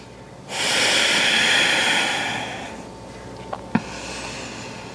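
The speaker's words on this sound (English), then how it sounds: "Perhaps you take another round of cleansing breath. Inhale through the nose and exhale out the mouth." A single deep cleansing breath during a power yoga session, a long audible inhale through the nose followed by a softer, fading exhale through the mouth, close and alone, ending with a couple of faint clicks.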